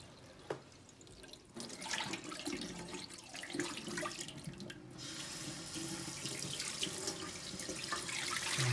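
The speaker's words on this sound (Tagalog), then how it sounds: "hugasan natin to, running water" Running tap water splashing over barramundi being rinsed at a sink, a steady continuous stream with some dripping, growing fuller toward the end.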